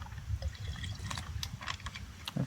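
Water poured into a herbicide mixture for spraying a wheat crop, a faint, close splashing and trickling with small gurgles.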